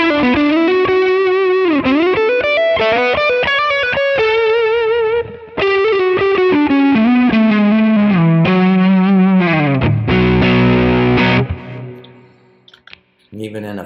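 An electric guitar on its neck pickup runs through a J.Rockett HRM overdrive pedal, giving a thick, slightly muddy driven tone with sustained bends and chords that play loud and continuous before a short trailing end.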